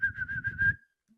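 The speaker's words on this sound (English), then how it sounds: "heard the whistle." A single sustained whistle, a steady high tone lasting under a second with faint talk and movement underneath, used to call players back during a football-themed segment.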